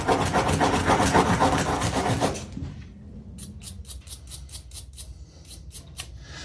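A softer wire brush scrubs metal parts during degreasing, giving a loud, dense rasping scrub for a couple of seconds, then a quieter series of quick, rhythmic brushing strokes.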